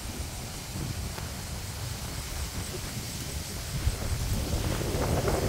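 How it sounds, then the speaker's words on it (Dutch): Steady wind buffeting and roaring through a mangrove forest, with low rumbling gusts and rustle that build slightly toward the end. "Er staat vandaag erg veel wind"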